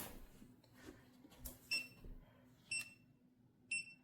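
A treadmill gives three short electronic beeps about a second apart, a countdown before the belt starts, over a faint steady hum in a quiet room.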